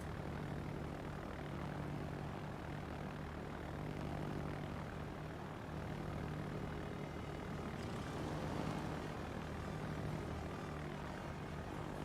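Japanese carrier planes droning in a World of Warships naval battle game, a faint steady propeller hum that holds throughout with slight swells and no voices.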